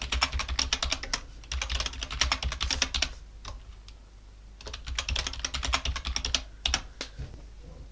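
Fingers type a password on a computer keyboard in quick bursts of close, crisp keystrokes, broken by short pauses, with no voices.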